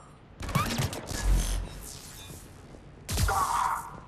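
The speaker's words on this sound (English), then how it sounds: "Intruders, open fire." Bursts of gunfire ring out in the Mass Effect 3 video game, a loud volley near the start followed by a second burst about three seconds later, with no voices.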